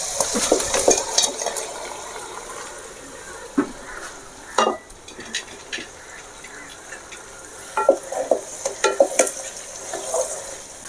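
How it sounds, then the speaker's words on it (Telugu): Cooked country chicken pieces stirred into a frying masala for a ragi sangati curry: steady sizzle with scattered spoon-on-pan scrapes and clinks, close and moderately loud, with no speech. "ఇప్పుడు ముందుగా నూనెలో ఉడకబెట్టుకున్న చికెన్ ముక్కలను అయితే మసాలా వేసేస్తున్నా."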